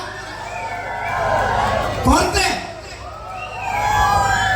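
A comedy show audience in Kerala hoots, whistles and shouts together, a rising and falling crowd din with wavering whoop-like calls, while a voice speaks over the noise.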